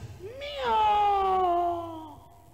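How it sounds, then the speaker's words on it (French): A kitten gives one long, drawn-out meow that rises and then slowly falls, loud and close, standing clearly on its own. "It cries like a cat."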